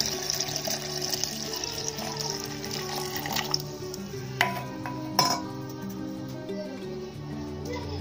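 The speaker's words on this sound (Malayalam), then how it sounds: "അപ്പോൾ ആ തണുത്ത വെള്ളം കൂടി ഇതിലോട്ട് ഒഴിക്കും." Cold water poured into a blender jar holding lime paste, a continuous splashing fill with a couple of sharp clinks of the jar, heard close and alone.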